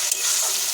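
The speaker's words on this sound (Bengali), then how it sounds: "মাছটা দিয়ে নাড়াচাড়া করছি" Fish frying in a pan as it is stirred, a steady close broadband sizzle with faint scraping, no talking.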